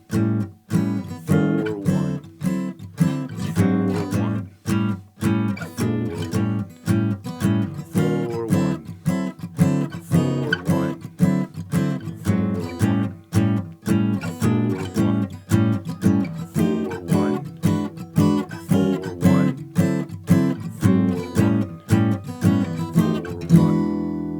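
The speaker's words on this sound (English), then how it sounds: "when we're actually strumming and playing through time" Steady rhythmic guitar strumming 12-bar blues chords in a shuffling pattern, close and clear, with no voices.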